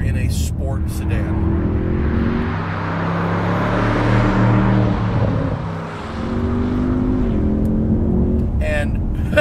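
Audi S8 sport sedan engine heard from inside the cabin, a muted throaty drone that rises and falls through gear changes, with a brief dip and recovery midway, while a person talks over it.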